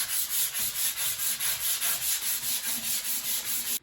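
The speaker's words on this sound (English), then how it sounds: "we will then come back and we'll sand it again" A fabric-decoupaged table top is sanded by hand in quick, even back-and-forth strokes, a close rhythmic rasping swish repeating about five times a second.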